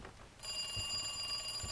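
Telephone ringing inside Resident Evil 2, an electronic bell-like trill that starts abruptly and rings steadily at moderate level, with no talk over it.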